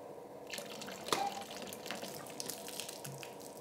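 Water is poured and splashes, giving a quiet, close spatter with a sharper splash near the start, followed by scattered drips and trickles.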